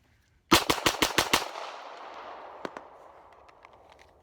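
Glock 19 pistol fitted with an Agency Arms single chamber 417 compensator fires a rapid string of six loud, sharp shots close by, followed by a lingering outdoor echo and a couple of fainter distant reports.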